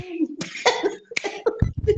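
A brief close cough mixed in with speech, a couple of rough throaty bursts among spoken sounds.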